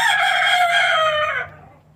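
A hen vocalises once at close range, a loud drawn-out cackle that tails off, heard alone with no talk.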